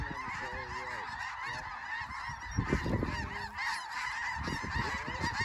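A big flock of snow geese honks nonstop during a South Dakota hunt, a dense, layered chorus of overlapping calls near and far, with no speech over it.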